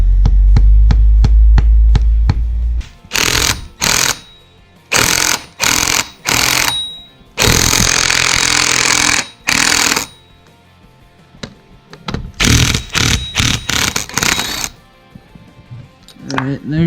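On a 2004 Yamaha YZ250F engine, a washer is pounded in loud, close bursts of metallic impacts, separated by short pauses and one longer continuous stretch.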